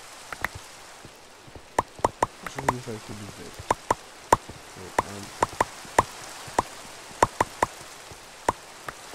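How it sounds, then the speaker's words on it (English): Rain in the Minecraft video game: scattered sharp droplet ticks and patters at an irregular rhythm over a soft hiss, with a person speaking briefly in the middle. "I've had it with the rain."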